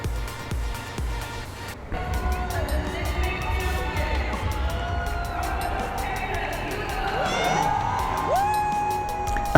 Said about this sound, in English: Around us, fans wept, hugged, and screamed with joy.